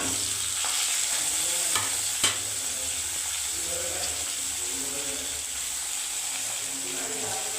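Onion, tomato and ginger frying in hot oil in a pan, a constant close sizzle and hiss with occasional stirring scrapes, no talk over it.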